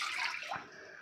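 Water pours into a heavy-bottomed pan on the stove for modak dough, a brief close splashing gush that fades within a second.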